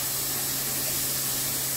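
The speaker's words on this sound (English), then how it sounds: "Replace it with some cold water." Cold water pours steadily into a container, a continuous bright hissing splash with a faint low hum beneath it, close and unbroken, with no talking.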